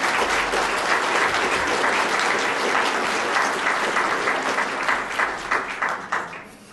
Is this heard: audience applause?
yes